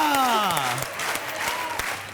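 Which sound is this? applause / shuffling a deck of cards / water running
applause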